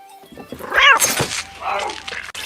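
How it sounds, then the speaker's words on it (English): A cat yowls loudly and close, a rising, wavering cry lasting under a second, amid thumps and scuffling with a brief noisy clatter after. "fucking cat!"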